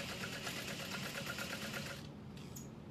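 A sewing machine back stitches a bucket bag seam, a continuous close mechanical whir with a fast even pulse that eases off near the end.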